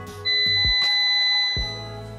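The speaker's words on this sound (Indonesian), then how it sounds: "Nah, itu ada suara beep, kemudian baru nyala ya." A UPS gives a short electronic beep over a low hum, followed by a couple of clicks as it switches on.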